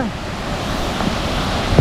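Thoovanam waterfall near Munnar, Kerala, rushes in a steady, broad roar, mixed with wind buffeting the microphone and a brief bump near the end.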